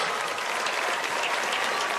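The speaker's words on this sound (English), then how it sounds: "Ladies and gentlemen, the big round of applause for your" Crowd at a high school football homecoming applauding steadily, a dense continuous wash of clapping.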